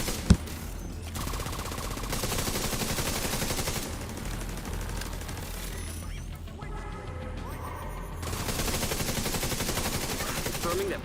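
Drone and turret gunfire in The Division 2 rattles in sustained rapid bursts, loud and close, pausing briefly between volleys amid mechanical clanks and background game effects.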